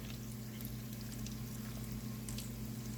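Chicken thighs frying in a pan for smothered fried chicken with gravy, a steady dense sizzle and bubbling with a constant low hum underneath, close and even for the whole stretch.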